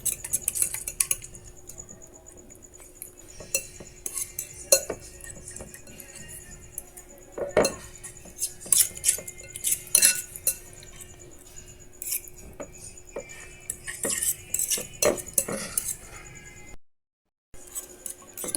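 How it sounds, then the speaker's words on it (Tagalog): Sardines being stirred and mashed in a bowl for a sardine omelette, with a utensil clinking and scraping against the dish in irregular bursts, close and moderately loud, and a few sharp taps near the end. "Tapos haluin na natin. Turugin na natin yung ating sardinas."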